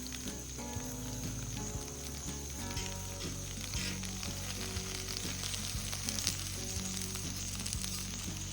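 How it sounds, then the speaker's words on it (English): Potatoes fry slowly on a homemade outdoor grill for breakfast, giving a continuous close sizzle dotted with constant fine crackles and pops, steady and fairly quiet with no voices. "Oh, I love that crackling sound of a frying potato."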